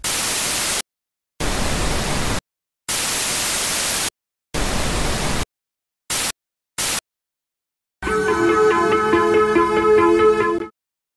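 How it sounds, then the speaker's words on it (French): Pink noise test signal plays as a series of hissing bursts of uneven length, separated by dead silence, followed by a longer, rougher noise segment with tonal coloring that cuts off abruptly. "ce bruit rose fatigue très vite les oreilles"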